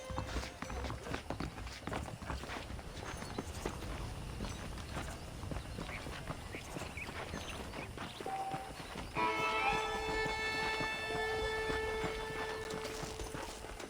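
Rhythmic clip-clop of horse hooves on hard ground in Red Dead Redemption, steady and fairly close, with game music tones joining partway through.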